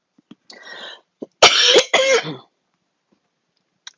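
A person coughs and clears their throat close to the microphone, a short rough burst followed by two harsher hacking coughs in an otherwise quiet room.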